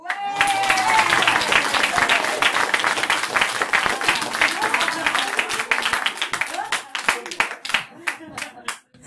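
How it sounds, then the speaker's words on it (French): Audience applause at a science theatre show during a Fête de la Science event in Strasbourg, as a performer is welcomed on stage: dense, loud clapping that fills the room, thinning into scattered claps toward the end, with a few voices mixed in. "Je vous invite à applaudir le docteur Grégory House."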